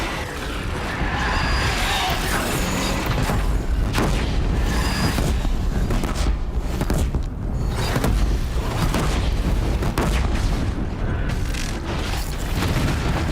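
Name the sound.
disc launcher firing in the Horizon Zero Dawn video game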